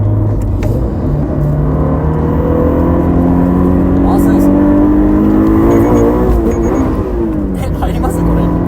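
Toyota GR86 engine on a track, with rising and falling tones as the throttle is eased off, loud inside the cabin with people talking over it throughout.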